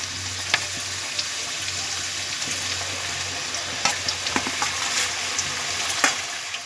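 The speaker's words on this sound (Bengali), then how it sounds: "এবার আমি আলুগুলোকে তেলের মধ্যে দিয়ে দেব, আর লো টেম্পারে গ্যাসটা রাখতে হবে।" Potato slices frying in oil over a low flame for crisp chips, a steady close bubbling hiss with occasional stirring clicks and pops, no voices.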